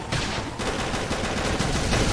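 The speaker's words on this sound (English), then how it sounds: "Lay down some cover fire!" Rapid gunfire bursts from a battle in the video game Xenoblade Chronicles X, a loud dense continuous volley of shots lasting about two seconds with no talk.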